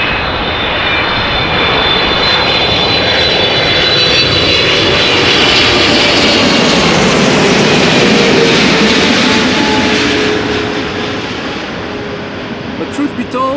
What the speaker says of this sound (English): 777-300ER arriving from Atlanta, Georgia.